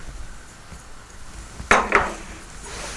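Utensil stirring fried potatoes in a hot pan with salt, pepper and parsley: a few distinct metallic scrapes and clanks stand out against faint background hiss, with no voices.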